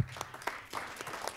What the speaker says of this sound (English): please give a big round of applause for Randy Bowe